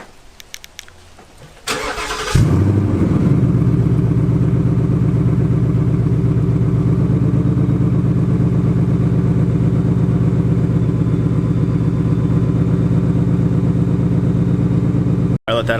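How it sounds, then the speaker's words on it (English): A Ford Mustang GT engine cranks briefly and fires up warm, then settles into a loud, steady, rumbling idle that holds close and unbroken for the rest of the clip. "this isn't gonna be a cold start, but let's start it up anyway"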